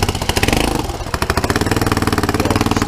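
A turbocharged scooter engine, running with no air filter, starts and settles into a loud, close, rapid pulsing idle with a rough, throbbing beat and no talk over it.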